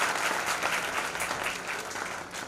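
Loud applause from students at a Bihar Police constable final selection felicitation ceremony in Gopalganj welcoming a former district youth wing president, strong at first and tapering slightly toward the end.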